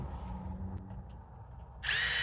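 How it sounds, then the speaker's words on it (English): A power drill drives a screw into the bottom of wooden corner trim, a low motor hum and faint taps building to a sudden loud, high whine near the end. "stick a screw in the bottom"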